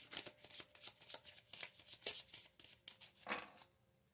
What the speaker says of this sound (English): you're watching me shuffle